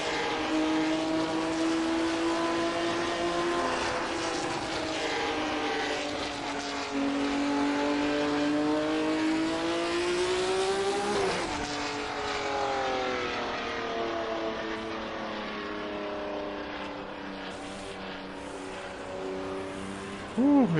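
A million-dollar race car engine in the video game Assetto Corsa roars continuously for about twenty seconds, loud and close, its pitch climbing and dropping through gear changes and sharp revs, with no talking over it.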